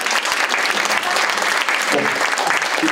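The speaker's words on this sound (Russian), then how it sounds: "Аплодисменты" Loud, dense audience applause at a concert event for young talents, a continuous roar of clapping from a large hall, with a voice briefly rising through it near the end.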